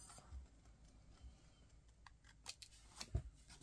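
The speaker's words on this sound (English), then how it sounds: "I have to trim off with snips." Snips cut through thin book-page paper in a few quiet, crisp snaps near the end, close but faint against a soft room background, with no talking.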